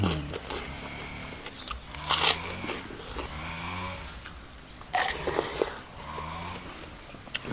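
Crisp bites and crunches come from eating crunchy wild java plum (mak wa) fruit outdoors, loud and close, with a few sharp snaps spread among quieter chewing.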